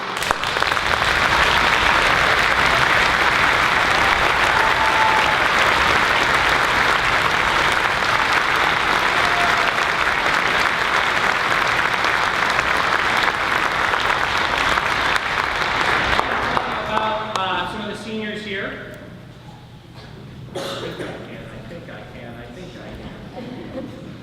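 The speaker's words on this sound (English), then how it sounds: "I'm going to ask that you hold your applause till we get through all of them" Loud, sustained audience applause fills an Avon High School orchestra concert for about sixteen seconds, then fades to scattered claps and low murmuring as the hall settles.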